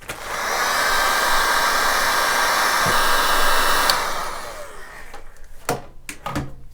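Heat gun blowing on a motorcycle brake caliper of a BMW R80ST, a steady loud whirring roar for several seconds that then cuts off, followed by a few clicks and handling knocks.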